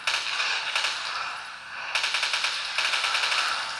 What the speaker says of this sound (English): Let's shoot this guy right here.